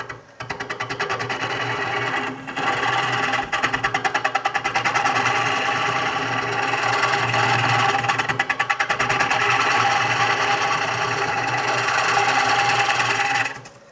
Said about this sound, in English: When I'm hollowing, the speed of the lathe is not the speed when I'm doing the outside.